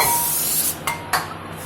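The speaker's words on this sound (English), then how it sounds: "Get yourself a little bit of brake parts cleaner." Brake parts cleaner hisses from an aerosol can onto a front brake rotor of a Toyota Sequoia 4.7L, a steady close-up spray cut off, then two quick short bursts.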